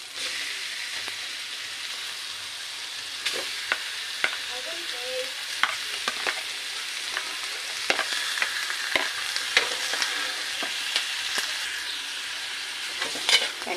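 Pork pieces sizzle steadily in a pan as a cook stirs and scrapes, with frequent sharp clicks and taps of the utensil over the constant hiss of frying.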